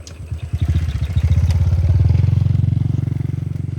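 A motorcycle engine draws near and passes close by, its loud, chugging pulse building from about half a second in and staying strong to the end, with no voices over it.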